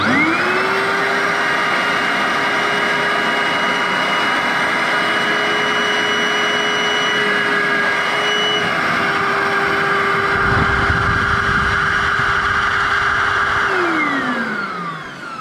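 An Anko carpet shampooer, model VC9385S-6, runs loud and close with a steady vacuum-like motor whine and airflow roar, staying constant before winding down at the end.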